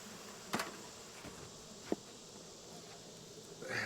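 Bees buzzing around an open beehive during hive equalizing, a steady low droning hum that fills the whole clip with a few brief louder knocks and clicks close by.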